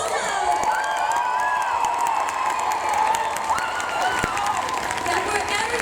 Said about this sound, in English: just a sentimental, like a little positive cheer